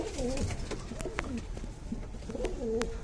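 Racing high-flyer pigeons coo in a low, throaty rhythm, with several rolling calls repeating close by over a faint background hum.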